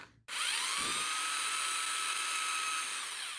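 Power drill boring into the trunk of a Japanese maple bonsai for a thread graft, a sudden start into a loud, high steady whine that holds nearly unbroken, close to the microphone, then eases slightly at the end.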